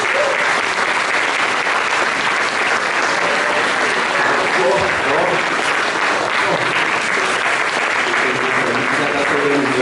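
A church congregation at a Methodist family service applauds loudly and continuously, a thick, sustained roar of clapping with murmured voices mixed in.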